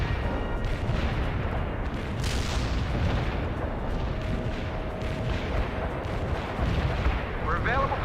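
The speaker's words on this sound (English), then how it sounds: "Artillery firing. A perfect artillery hit." Artillery barrage pounding a target in the strategy game World in Conflict, a dense continuous rumble of heavy blasts and gunfire, loud and sustained throughout.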